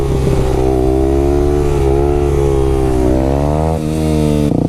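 A Yamaha WR250X motorcycle engine drones loud and close during a wheelie, holding a steady buzzing pitch, rising briefly as the throttle opens, then dipping and surging again near the end.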